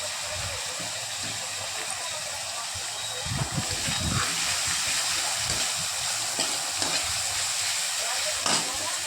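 Grated onion fries in mustard oil with black cumin, giving a steady close sizzle and hiss, with a few stirring clatters and scrapes partway through; nobody talks.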